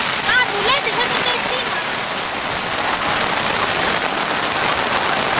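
Steady, loud rain hisses down at a seaside beach during a birthday outing, a continuous wash of falling water with people talking close by throughout.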